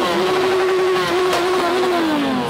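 Motorcycles of a Skierniewice motorcycle association closing a flower, fruit and vegetable festival parade, a loud close engine drone holding a steady pitch, then dropping slightly as it passes.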